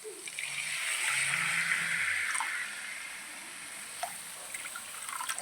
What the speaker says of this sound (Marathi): आता याच्यामध्ये मी पाणी टाकून घेणार आहे.